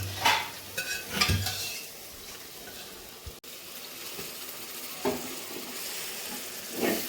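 Cooked toor dal goes into hot oil in a pan, giving a soft sizzle broken by several scraping stirs and clinks of a utensil, fairly quiet and close, with no talking.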